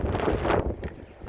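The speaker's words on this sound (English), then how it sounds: "yeah, it is windy." Gusty wind buffets the microphone during electric mountainboard riding, loud at first and then easing to a lower rumble.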